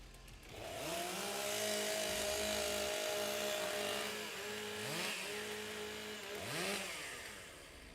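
STIHL chainsaws revving and idling together at a timbersports competition, several engines droning loudly with rising and falling pitch sweeps as throttles are blipped, no talking.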